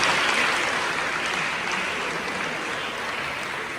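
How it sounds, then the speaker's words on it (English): An audience claps at a Kpone Polyclinic World Menstrual Hygiene Day celebration, with steady, close, dense applause that tapers slightly toward the end. "Let's clap for him."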